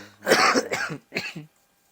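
A couple of rough, throaty coughs close to the microphone, one after another, then silence.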